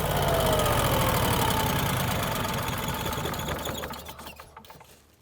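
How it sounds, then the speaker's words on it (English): A Generac 22kW standby generator runs with a loud, steady mechanical drone during annual system maintenance, then winds down and fades out over the last couple of seconds. "Machine ran good and strong."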